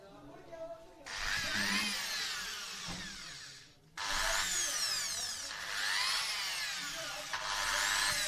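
Electric drill machine being repaired at home, run in loud whining bursts: a high revving spin-up, a brief dip near the middle, then sustained running with shifting pitch.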